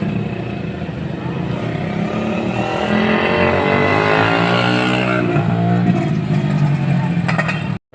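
A motorcycle engine runs loudly nearby, its pitch climbing as it revs up, then cutting off abruptly at the end.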